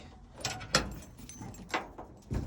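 A 1964 Impala trunk is opened: a few sharp clunks and a latch click, with a light jingle of keys, close by and without talk.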